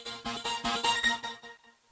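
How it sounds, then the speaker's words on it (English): A synthetic riser in Cakewalk by BandLab, slightly detuned by a chorus effect, swells through rhythmic pulsing bursts before thinning out and breaking into a brief loud low hit at the end. "I wanted it to be even more a little detuned,"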